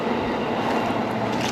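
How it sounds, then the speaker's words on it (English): A passing train rumbles steadily in the background, a continuous broadband roll with faint high squeal hints from the brakes, moderately distant and unbroken throughout. "Train in the background."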